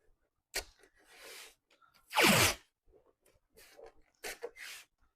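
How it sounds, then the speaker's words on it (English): Tape being pulled off a roll and pressed onto the back of a decoupage paper project, with one loud drawn-out rip in the middle and scattered short crinkles and taps around it in an otherwise quiet room. "And I'll protect the back with some tape."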